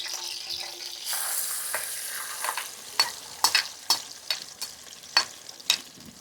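Masala paste frying in oil with whole spices for a cashew paneer curry, a continuous sizzle broken by sharp scraping stirs that come in a loose, irregular rhythm, close and fairly loud, with no talking.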